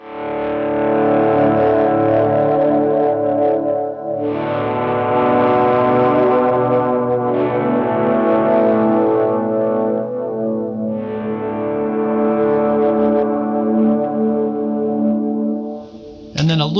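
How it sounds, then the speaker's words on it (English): Electric guitar swells run through a tape delay with a warbling modulation, sustained chords blooming in and fading, with repeats and reverb trailing behind them in two long phrases. "I do have the effect on my tape delay, that warble up quite a bit"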